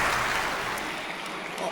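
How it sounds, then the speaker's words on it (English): An awards-night audience at the WATA 2019 ceremony applauds winner Ananda, with a dense, steady wash of clapping that continues throughout and voices heard faintly underneath. "Give a round of applause to Ananda as she leaves the very steep stage."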